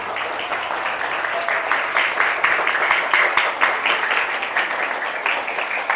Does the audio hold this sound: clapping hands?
yes